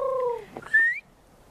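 People whistling bird calls outdoors on a nature trail, a voice imitating birdsong: two long falling whistled notes, a brief warble, then a short rising whistle, clear and close with no talk.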